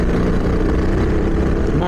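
A Tillotson T4 four-stroke kart engine, 225 cc and about 15 horsepower, roars loud and close at South Milano Karting, a continuous dense drone with steady rumble and no clear breaks.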